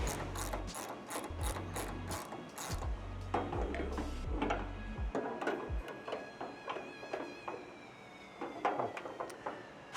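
A torque wrench ratchets as it tightens bolts on a Ford Transit tire carrier, giving a loud run of quick rhythmic clicks in bursts, then scattered sharper ticks and clanks close by with no talking.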